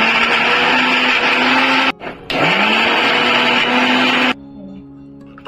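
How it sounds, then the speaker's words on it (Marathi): An electric mixer grinder grinds dates with jaggery powder and a little water, a loud steady whirring roar that cuts out briefly, restarts, then stops, leaving a low hum. "मी मिक्सरला बारीक करून घेते"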